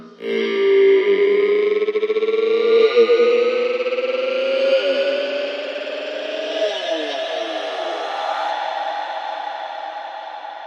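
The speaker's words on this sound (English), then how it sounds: "I used only one word from the speech, loaded into a granulizer and then automated some of these controls" A granulized vocal build-up in a techno track: the single sung word "evolución" smeared into a dense, rising, shimmering drone that swells loudly then slowly thins out.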